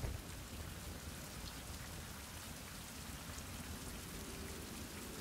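Steady, dense rain pours in the Survival: Fountain of Youth video game, a constant hiss with a low rumbling undertone of thunder throughout and no voices.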